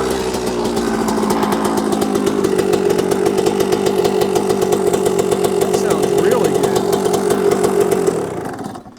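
A Suzuki RM125 two-stroke dirt bike engine runs with the choke on, a loud, close, steady buzzing rattle that holds for about eight seconds before cutting off.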